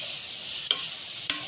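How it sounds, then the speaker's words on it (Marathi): Ground spices for dal tadka fry in a pan with a steady soft sizzle, broken by two sharp scrapes of a stirring spoon. "आता तो परतून घेणार आहोत."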